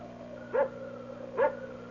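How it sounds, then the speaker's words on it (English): Guard dog barking outdoors near a hillside vault in a 1975 radio drama, two single barks about a second apart, moderately loud over a steady low drone. "That barking dog."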